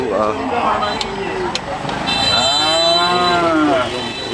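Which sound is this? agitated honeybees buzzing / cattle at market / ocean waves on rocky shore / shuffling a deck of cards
cattle at market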